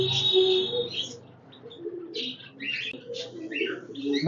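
Pakistani high-flying pigeons coo softly nearby in low, rolling calls, mixed with a few brief chirps and some faint background noise.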